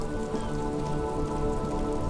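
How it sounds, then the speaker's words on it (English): Steady rain pours down in the video game Disco Elysium, a dense continuous hiss of drops hitting surfaces that holds at an even level throughout, with no voices. "This rain will not let up anytime soon."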